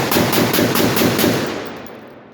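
Palmetto 7.5-inch AR-15 in 5.56 with a linear compensator firing a rapid string of about eight shots, very loud and close, blending into a continuous roar that echoes away.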